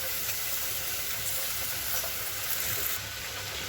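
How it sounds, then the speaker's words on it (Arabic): Rice sautéing in a pan with onion and spices gives a steady, close sizzling hiss with faint stirring scrapes, continuous and alone without any voices. "نزلت بالرز واديته تشويحه مع البصله والتوابل"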